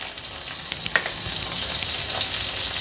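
Butter with a little oil sizzles and crackles in a pan while prawn pattice are being made, giving a steady, fairly soft frying hiss with small pops and no voices.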